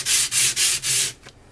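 A leather knife blade strokes across a wet 6000 grit Japanese waterstone in four steady, close rubbing passes, followed by a fainter short scrape.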